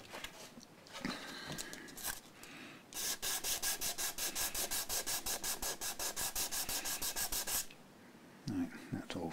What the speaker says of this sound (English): they do actually benefit from a little bit of sanding